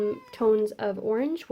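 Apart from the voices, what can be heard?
domestic cat meowing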